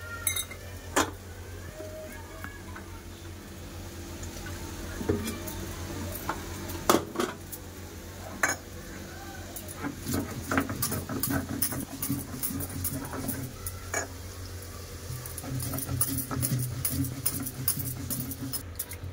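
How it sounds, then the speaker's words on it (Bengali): Poppy seeds and mustard seeds are ground into a paste in a home Bengali kitchen, giving close, repeated scraping and knocking clatter with irregular bursts and no talking. "লেছি পোস্ত আর সরষে, এবার বেটে নেবো।"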